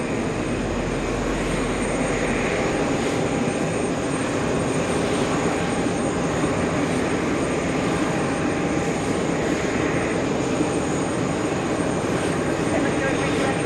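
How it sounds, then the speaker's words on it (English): A Finnair Airbus A350-900 arriving at JFK from Stockholm, a steady broadband engine roar holding constant throughout, loud and close. "Flying in from Stockholm, Finnair 29. It's an A350-900 flying 8 hours."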